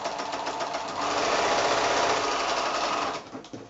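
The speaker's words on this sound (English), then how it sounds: "So I'm sewing actually right on that diagonal line that I've drawn." A sewing machine runs steadily, stitching quilt pinwheel block pieces along a drawn diagonal line, a close, loud, continuous mechanical whir that slows and stops near the end.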